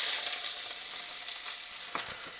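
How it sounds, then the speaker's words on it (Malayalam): Curry paste ingredients for a Kerala-style kingfish red curry sizzle steadily in hot coconut oil, a dense, continuous frying hiss close by with faint stirring scrapes and no voices. "ഇനി നമുക്ക് നമ്മുടെ ഈ അരയ്ക്കാനുള്ള സാധനങ്ങൾ വെളിച്ചെണ്ണയിട്ട് ഇടാം"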